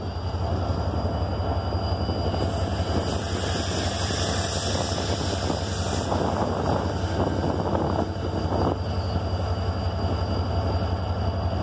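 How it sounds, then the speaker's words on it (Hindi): Diesel locomotive HGMU 8215 hauling the Mehran Express, a steady loud engine drone with rail rumble continuing throughout, close by and without talk. "आज लोकोमोटिव लगा हुआ है 8215 HGMU।"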